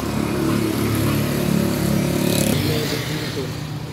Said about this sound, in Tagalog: Yung motor.